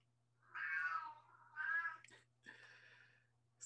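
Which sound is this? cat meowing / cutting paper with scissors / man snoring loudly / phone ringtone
cat meowing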